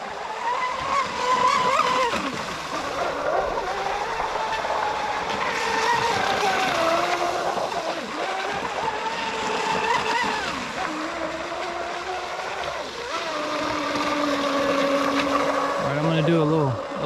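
High-revving electric motor of an RC speedboat running on 250C 6S SRD battery packs at 22 volts, whining loudly and continuously as it races at full speed over water, pitch rising and falling through passes.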